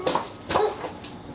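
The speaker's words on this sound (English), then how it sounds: "the neighbor's dog is barking" A neighbor's dog barks a few short, yipping times somewhere off in the background, faint and a little muffled against a low ambient hiss.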